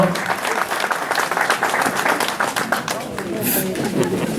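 Crowd applause at a 2017 cycling challenge podium ceremony honouring four category riders, a dense steady clatter of clapping lasting throughout with voices and chatter mixed in.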